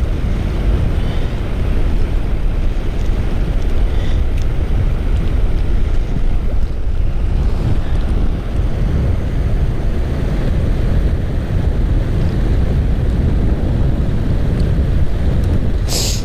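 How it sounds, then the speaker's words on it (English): Strong wind blows across the microphone by the water, a loud continuous roar with rumbling buffeting that never lets up. "Man, the wind is so bad, my eyes are watering up."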